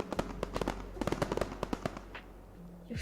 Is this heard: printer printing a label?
no